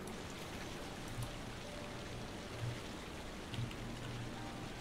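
A waterfall in the video game Final Fantasy XIV gives a steady, dense rushing hiss of falling water, faint and unbroken, with a few soft thumps beneath and no voices.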